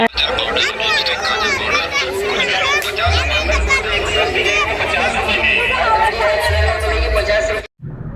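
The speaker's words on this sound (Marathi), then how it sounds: "रात्रीचे दहा साडेदहा वाजलेले होते पण गर्दी खूप जास्त होती" Dense crowd chatter at a village fair late at night, many voices overlapping close by, children among them, with occasional low thumps of music beneath and a sudden brief cutout near the end.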